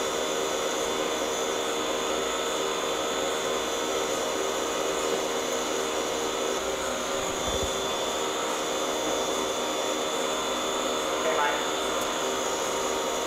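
A Kurt J. Lesker system's load lock chamber vents with a constant, even rush of gas. Steady machine hum and tonal whine sit underneath, and the sound stays level throughout.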